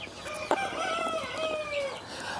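Grown bird in a Kenyan Kienyeji poultry setting giving a loud drawn-out crow-like call with rising and falling tone, preceded by a sharp click, close and alone without talk.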